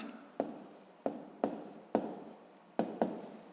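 Numbers written by hand during a fifth-grade maths exercise, heard as a series of distinct pen or chalk strokes in short bursts with brief pauses between them, close and fairly quiet, with no talking.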